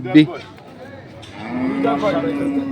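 A dairy cow at the Ambari cattle market in Dinajpur gives a long, low moo that swells up close, with a shorter call and market voices heard just before it.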